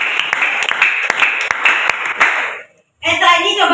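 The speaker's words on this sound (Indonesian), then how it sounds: "Kita beri tepuk tangan untuk Zikriana" A small group, likely a class in an Indonesian biology lesson, gives light applause for a student named Zikriana. Scattered individual claps sound over a steady hiss, then the clapping cuts off and a voice begins talking.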